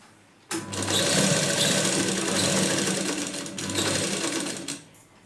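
A sewing machine stitching a size 36 blouse front with a cross patti, running in one continuous loud, close whir for several seconds with nobody speaking.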